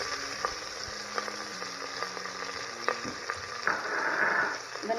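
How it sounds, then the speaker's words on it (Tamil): Chopped curry leaves and onion fry in a pan with a steady close sizzle, occasional light stirring clicks, and a louder swell of crackling toward the end. "கருவேப்பிலையும் வெங்காயமும் நறுக்கி வச்சுட்டு அதை போட்டுறேன்."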